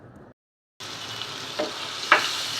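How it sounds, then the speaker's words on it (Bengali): Spices fry in oil for a chicken curry, giving a soft steady sizzle after a short silent gap, with a couple of faint stirring scrapes near the end. "এখন তেলের মধ্যে একটু মশলাটা ভেজে নেব"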